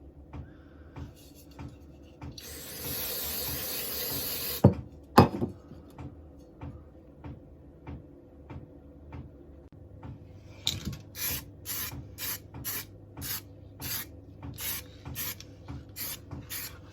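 A camper van's reversing camera bracket is rubbed with solvent on a cloth, with a few seconds of continuous rasping wipe, a sharp knock, then quiet ticks and a run of short scrubbing strokes.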